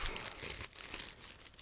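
A plastic bag from a 1/48 Eduard Spitfire model kit is handled, giving close, continuous crinkling and rustling with a few sharper crackles, heard alone.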